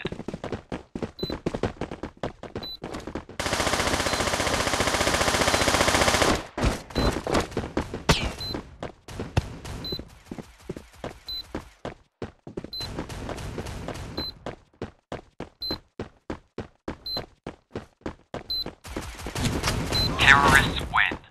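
Gunfire in the mobile shooter Forward Assault: many sharp single shots in an uneven rhythm, broken by a few sustained automatic bursts, all loud and near with no talk.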